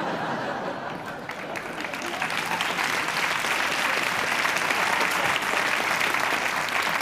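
Sustained audience applause at a comedy show, a dense steady clapping that swells slightly and holds at full strength, with faint laughter mixed in.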